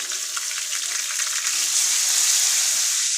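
Onion and garlic paste fries in hot oil in a pan while shrimp and greens are cooked, a close, steady sizzle that swells slightly as it goes on, with no voices.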